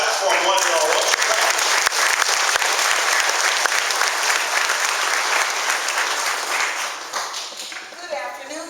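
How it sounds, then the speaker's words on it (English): An audience in a church applauds at a memorial service: dense, sustained clapping from many hands fills the room, loud and steady, then thins and fades toward the end. "Let's clap for them one and all."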